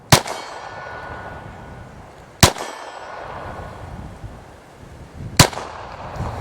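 Three sharp gunshots from a SIG P322 .22lr pistol at an outdoor range, each followed by a faint ringing clang off a steel target 25 yards away, evenly spaced over steady wind noise.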